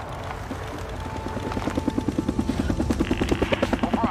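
A helicopter flies in the video game Days Gone, its rotor beating in a steady rhythmic thump that grows louder and closer over a constant engine drone.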